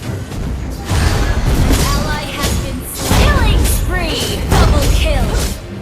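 Turret destruction in Mobile Legends sounds as a few heavy booms and crashing bursts, mixed with game effects and an announcer voice speaking over them.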